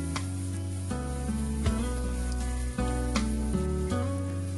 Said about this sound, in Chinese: 翻炒均勻，炒出香味